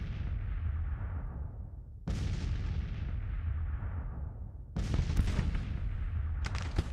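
Artillery cannons firing in the Grand Tactician: The Civil War video game, three loud booming blasts at about two-second gaps, each followed by a long rumbling decay, with a few sharper cracks near the end.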